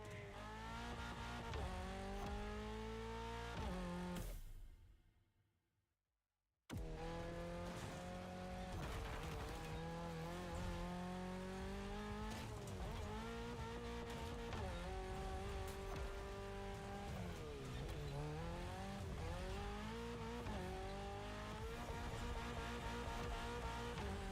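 A Mitsubishi Evo X in The Crew Motorfest video game revs hard and races, with its engine note climbing and shifting and tires squealing through skids. Near the start it cuts to brief silence, then the steady roaring engine resumes without talk.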